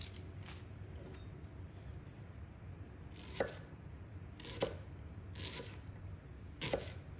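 Knife chopping a shallot on a board: a few separate crisp, quiet slicing crunches spaced about a second apart, close, over faint background hiss, with no talk.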